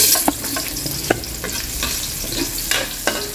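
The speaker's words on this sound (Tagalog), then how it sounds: "Igisa ang sibuyas at garlic." Onion and garlic sizzle steadily in a hot pan while a utensil stirs and scrapes in occasional clicks, close and fairly loud, with no talking.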